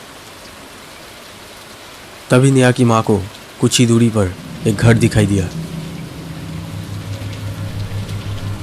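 Steady rain falls in an animated horror story, a continuous hiss that runs under a narrator's voice and then carries on alone.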